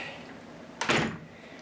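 A newly installed solid core interior door in a bedroom remodel swings shut with a single solid thud, close by against a quiet room.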